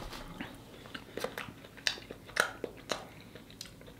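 Someone bites into and chews a pie with a graham cracker crust close to the mic, with a few sharp crunchy bites amid softer chewing sounds, quiet and without speech.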